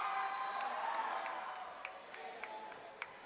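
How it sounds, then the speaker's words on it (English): Students at a national robotics competition cheer and shout from a large crowd, a continuous roar with scattered sharp claps and whoops standing out, fairly distant and moderately loud. "The students are so excited and they're cheering up louder and louder for their teams."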